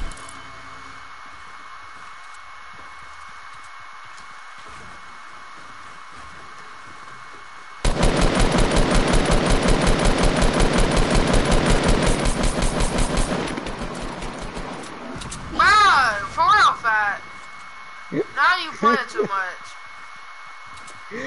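Fortnite Battle Royale gunfire comes as a sustained rapid automatic burst lasting several seconds, loud and close, then fades into a few short scattered shots, with voices talking around it.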